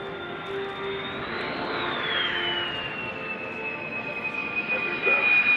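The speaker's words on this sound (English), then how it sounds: "As the aircraft comes in to approach, they're flying at a speed of about 130 knots" Military aircraft on landing approach at about 130 knots, a sustained engine roar with a rising and falling whine that swells slightly louder near the end as it draws closer.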